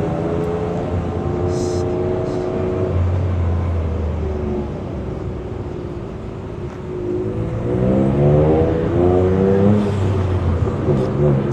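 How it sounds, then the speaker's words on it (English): A Toyota GR Yaris with a freshly changed setup and alignment runs on a test drive, its engine droning steadily and rising in pitch as it accelerates, close and continuous, while people talk throughout. "sama Darren, kita mau tes mobilnya dulu nih katanya untuk make sure apakah sudah oke, spuringannya udah lurus"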